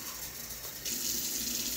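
Tap water runs briefly into a container holding two sliced garden cucumbers dressed with vinegar, a soft steady splashing pour that swells partway through and continues to the end, with no talking.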